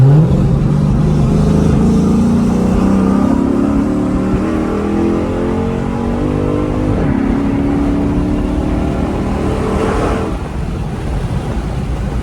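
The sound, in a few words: Dodge SRT8 engine revving in a tunnel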